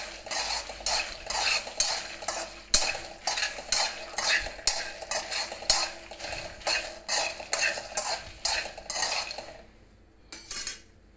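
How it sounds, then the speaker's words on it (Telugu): Peanuts and dried red chillies roast in a pan, stirred in a brisk rhythm of rattling, scraping strokes that clatter against the metal, then taper off near the end. "మళ్ళీ పల్లీలు ఆల్మోస్ట్ వేగిపోవచ్చాయి. ఇందులోనే ఎండుమిరపకాయలు కూడా వేసేసాను."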